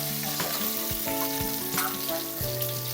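Chicken leg pieces frying in a pan, a steady loud sizzle running throughout with a few sharper crackles and stirring knocks, no voices.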